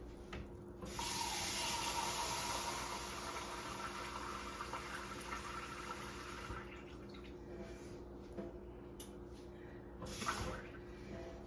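Water pours steadily into a slow cooker for several seconds, then stops, followed by faint handling clatter and a quiet background hum.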